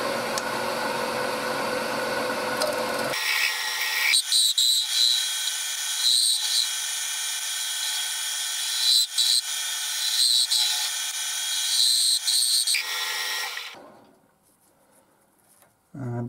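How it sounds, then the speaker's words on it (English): A pen blank cast in epoxy spins on a wood lathe while a tungsten tool cuts it, giving a steady, loud high-pitched whirring scrape that holds for about ten seconds, then cuts out and leaves near silence. "I'll show a little bit more because obviously I haven't shown any turning it in this turning video"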